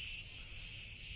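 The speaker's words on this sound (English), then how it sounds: "It's the noise of cicadas, an insect that emerge every summer." Cicadas sing in the heat of a Greek summer, a continuous shrill buzzing drone that stays steady and close for the whole short stretch.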